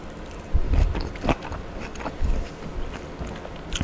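Someone bites into and chews an orange right next to the microphone, a close series of wet, crunchy bites and mouth sounds in a whisper-quiet setting.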